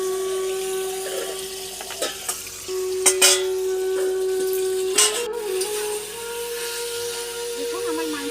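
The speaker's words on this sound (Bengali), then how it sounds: "আমার মাংসটা ভাজা হয়ে গেছে, রংটা পুরো চেঞ্জ হয়ে গেছে" Chicken pieces frying in a pan for chili chicken, a steady sizzle with several clattering stirs and scrapes of the utensil, close and fairly loud, no talking.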